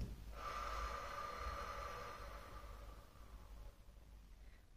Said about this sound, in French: Je fais quelques respirations pour m'ancrer.